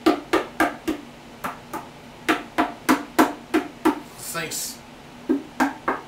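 Hardened Eva Flex-It foam helmet being struck repeatedly, a string of sharp, hollow knocks in an uneven rhythm, loud and close, with a brief hiss in the middle and heaters humming underneath.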